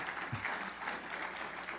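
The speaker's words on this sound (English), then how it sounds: "Please give us a round of applause for that tradition." Audience applause at a student leadership awards ceremony, continuous moderately distant clapping across a hall, fairly soft and even with no break.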